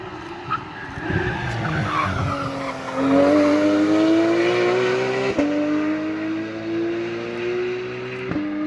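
A Porsche 911 Carrera of the 992 generation drives on the Nürburgring, its engine note rising through the gears as it passes, loud and close, with a tire squeal early on.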